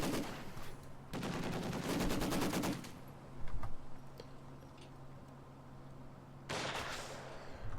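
Company of Heroes 2 video game battle audio: bursts of rapid automatic gunfire as a sniper and a heavy machine gun squad exchange fire. Several sustained rattling volleys come one after another, with a brief thump between them.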